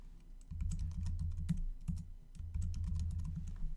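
Quiet typing on a computer keyboard: two bursts of rapid, light key clicks separated by a short pause, close up over a low background hum.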